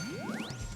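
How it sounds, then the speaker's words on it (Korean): Golden bell sound effect on a Korean stock quiz show, a single bright rising chime with a ringing tone, short and clear, heard alone without talk. "이번에도 골든벨이 울렸습니다."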